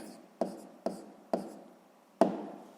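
A pen or chalk writes out a math answer in four sharp taps, each followed by a short scratching trail, spaced unevenly and quiet, with no talk.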